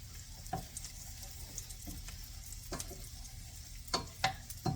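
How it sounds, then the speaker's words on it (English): Leftovers saute in a pan for a wine gravy, a faint, steady sizzle broken by soft scraping stirs and a few small pops, quiet and close with no talking. "let's give it sauteing."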